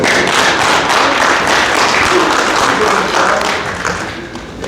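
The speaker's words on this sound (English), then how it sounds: "we'll hold our applause now moving forward until the very end" Loud, steady applause from a seated audience at a county candidate forum, filling the room for several seconds after a speech before tapering off slightly at the end.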